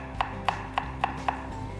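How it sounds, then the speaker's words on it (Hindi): Fried potatoes are chopped with a knife on a board, five crisp, evenly spaced taps in quick succession, close and clear against a quiet kitchen background. "तो इन्हें हम चॉप कर लेंगे।"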